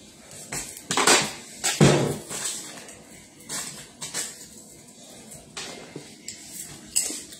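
Pots, pans and cutlery clatter and clink in irregular bursts during home cooking, close and fairly loud, with scattered knocks between louder clusters and no talking.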